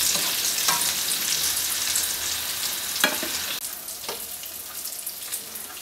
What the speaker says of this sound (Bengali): এটা ভাজা হয়েছে সুন্দর মতো, আমি উঠিয়ে ফেলবো।